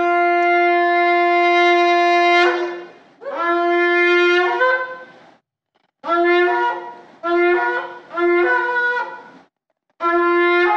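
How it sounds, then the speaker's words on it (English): A shofar sounds loud and close in a worship setting: a long sustained blast, then a series of shorter broken blasts separated by brief silences, each with a bright, brassy, buzzing tone. "come and blow the shofar"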